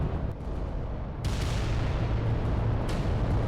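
Heavy titan weapons fire in the Adeptus Titanicus video game, low rumbling booms and blasts layered into a continuous roar, with a sharp burst near the start and another later.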